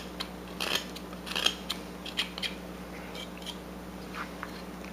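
A knife cuts notches into a wooden folk-art carving of a sitting couple, giving short, crisp snicks and scrapes, close and fairly quiet, spaced irregularly.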